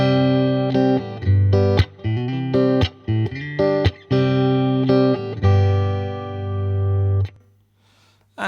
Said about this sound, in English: Now I've got to go into the Strymon Flint, giving it a little bit of reverb.